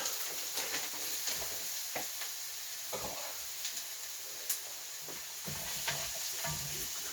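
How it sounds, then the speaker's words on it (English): Corn frying in hot oil in a pan for Malay chicken curry, a steady close sizzle broken by occasional clicks and scrapes of stirring, with no talking. "And then add some oil. Add the corn."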